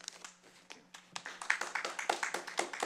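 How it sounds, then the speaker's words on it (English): An audience at a county commissioners' meeting claps, starting with a few scattered hand claps and quickly building into a rhythmic, fairly close round of applause. "Please, no applause, please."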